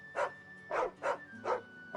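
A dog in the Final Fantasy XVI video game barks five times in an evenly spaced series, moderately loud and close, with no talk over it.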